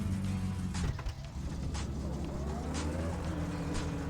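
A car engine idles steadily in My Summer Car, a constant low droning hum throughout with a few faint higher chirps and clicks over it.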